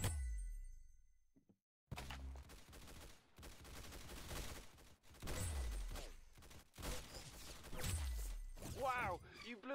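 Gunfire in the Roblox shooter Arsenal: rapid, loud bursts of shots in repeated clusters with short gaps between them, close and punchy, with a faint voice-like sound near the end.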